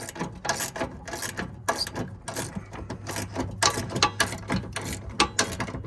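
A ratchet wrench tightens bolts on RV KwiKee power steps, a quick series of close metallic clicks in uneven bursts with brief pauses between strokes.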